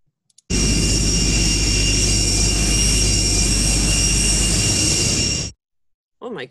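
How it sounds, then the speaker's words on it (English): Airplane jet engine roaring loud and close, a dense steady blast with a high whine that cuts in abruptly and stops after about five seconds, followed by a brief voice. "I think that was an airplane engine."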